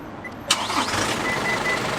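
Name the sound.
Isuzu D-Max X-Terrain engine starting via remote start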